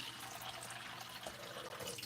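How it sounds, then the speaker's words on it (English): Steady rush of water running from a tap into a pot for boiling spaghetti, a continuous broadband splash without pauses, close by. "some water."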